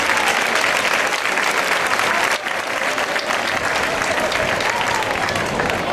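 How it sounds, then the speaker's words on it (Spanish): A crowd at a village festival capea in Caparroso, Navarra, breaks into loud, sustained applause for a participant, dense clapping with crowd noise filling the whole stretch. "Un fuerte aplauso para él."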